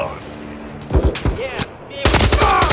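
Machine gun fire in the Call of Duty Modern Warfare III campaign, set in a frozen tundra: two loud, close bursts of rapid automatic shots ring out over quieter game ambience.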